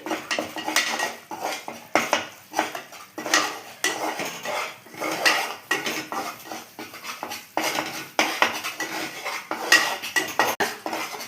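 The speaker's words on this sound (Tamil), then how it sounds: "வாசனை வர வரை கிண்டிக்கிட்டே இருக்கணும், கிளறிக்கிட்டே இருக்கணும்" A utensil stirs ingredients roasting in ghee in a metal pan, making a steady run of close scraping and clinking strokes in an uneven rhythm with no talk.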